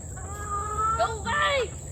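Chickens cluck and a rooster calls out in short, rising bursts, close by over a steady background hum.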